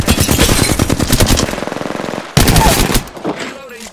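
The RE-45 automatic pistol in Apex Legends fires loud, close, rapid shots in two sustained bursts separated by a short break, ending with a brief trailing spatter.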